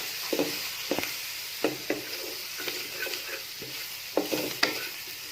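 Garlic and red chili powder are stirred in a pan over a low frying sizzle, with repeated scraping spoon strokes in an irregular rhythm, close and fairly loud, no talking.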